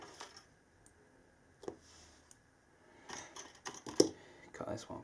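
A few sharp snips and clicks of scissors trimming small battery packs flush, in scattered bursts against a quiet background with faint murmuring.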